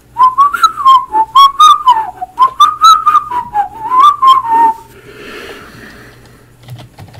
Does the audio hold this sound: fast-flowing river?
no